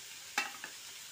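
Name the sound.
fish heads frying in a pan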